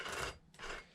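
A hand file rasps across the dull chain teeth of a Poulan Predator chainsaw, giving two close, fairly faint scraping strokes with nothing else heard.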